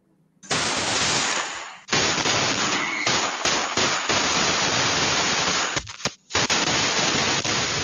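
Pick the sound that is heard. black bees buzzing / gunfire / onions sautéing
gunfire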